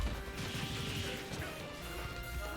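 KO blast in the Super Smash Bros Ultimate fighting game during a competitive match, a crashing smash-like impact with clatter, faint and brief amid game sounds.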